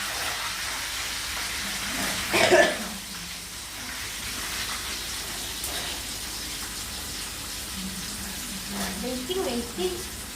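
Broad hissing and rushing like heavy rain as salt water is poured into hot oil frying tapioca chips, with a louder burst early on and a voice talking over it.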